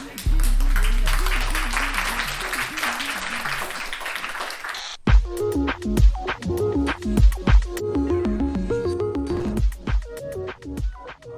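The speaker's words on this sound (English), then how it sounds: "Thank you very much, and a round of applause." Conference audience in Helsinki clapping for about five seconds, fairly loud and dense, before it cuts to a rhythmic music track.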